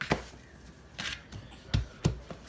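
Soft bread dough for fluffy dinner rolls is kneaded with flour by hand, giving soft thumps and dull slaps in a loose rhythm, close and quiet.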